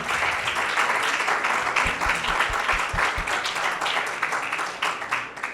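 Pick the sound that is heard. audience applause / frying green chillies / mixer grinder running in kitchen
audience applause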